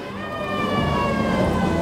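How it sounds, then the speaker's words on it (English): A siren passes outside a Los Angeles club, its wailing tone rising steadily louder over a dense background of traffic and street noise, with no talk. "Can we wait till an ambulance goes by?"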